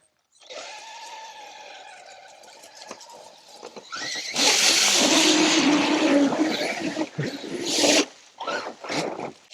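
A Traxxas TRX4 Ford F150 High Trail RC truck drives through mud in second gear. A high motor whine builds, then loud, rough churning and squealing surges for several seconds before breaking into short bursts.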